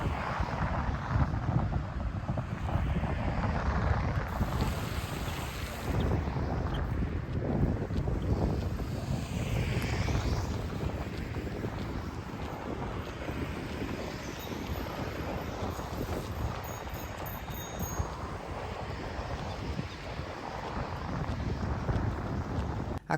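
Strong wind buffets a microphone on a runner heading straight into a headwind on the return stretch of an outdoor run, a constant heavy roaring rumble that fills the whole stretch without any speech.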